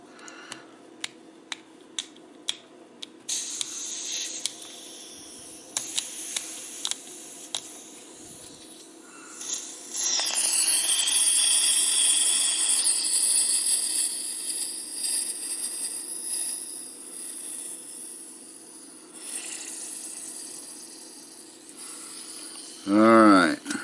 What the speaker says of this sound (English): You'll start hearing butane seep out of it.